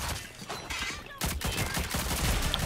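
Rapid bursts of gunfire from the video game Rogue Company crackle through the mix in dense volleys, fairly quiet overall.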